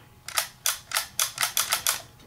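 A Holga HolgaGLO 120N neon green plastic medium-format camera, set to bulb, gives seven crisp, close shutter clicks at a quick, fairly even pace, each one sharp and bright against a quiet room.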